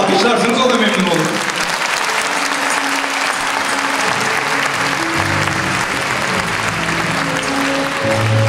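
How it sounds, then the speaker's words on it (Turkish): A concert audience claps, loud and sustained, at a 100th-anniversary Atatürk concert, while a voice speaks over the clapping and a few sustained musical tones enter toward the end. "Bir de alkışlarsınız, o da memnun olur."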